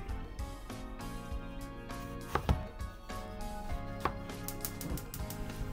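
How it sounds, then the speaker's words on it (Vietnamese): Tomatoes being chopped with a knife on a board in a home kitchen, a run of close, uneven taps with a few sharper strikes, heard over steady background music. "Cắt nhỏ cà chua mấy bạn."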